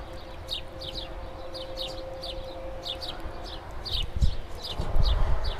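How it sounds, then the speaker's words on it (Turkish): Birds chirp in quick repeated bursts at a moderate distance, with a faint steady hum underneath and some rustling near the end. "Kuşlar seslerine bakar mısın?"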